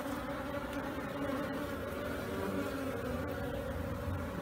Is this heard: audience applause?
no